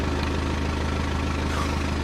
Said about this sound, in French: Aujourd'hui, nous sommes avec une dirt, une moto.